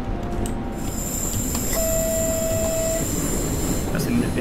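A train in the Train Simulator 2018 game on the Mittenwaldbahn line rumbles steadily with a low mechanical drone, a sustained tonal whine rising through the middle and faint hiss above, continuous and fairly close.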